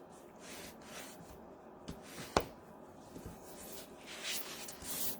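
An acetate sheet on a greenhouse seed packet is trimmed in the quiet, giving soft rubbing and scraping and one sharp snip-like click, close and faint.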